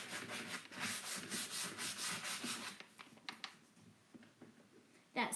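A wooden hope chest being sanded smooth by hand, steady scratchy rubbing strokes in quick rhythm that slow and fade near the end, with soft talk in the background.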